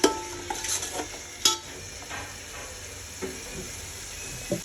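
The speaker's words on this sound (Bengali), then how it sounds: "তো এটাকে আমি ভালো করে টমেটোটাকে গলিয়ে নেব।" Tomatoes with salt cook down in a pan for chicken biryani, with soft sizzling and a few sharp scrapes and clinks of a spoon stirring against the metal, close and fairly quiet.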